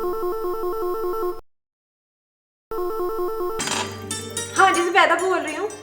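Telephone ringing in a household scene of a Pakistani drama, a steady repeating ring that stops briefly and resumes, followed by clinking and someone speaking.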